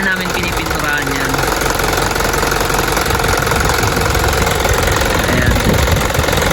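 Diesel engine of an Isuzu Elf NKR mini dump truck running at idle, a steady close knocking rumble that fills the whole stretch at constant loudness, with faint voices mixed in.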